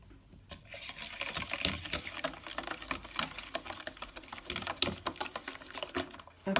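Yogurt cake batter with oil is stirred briskly in a bowl, giving close, rapid, irregular wet sloshing and tapping that continues throughout.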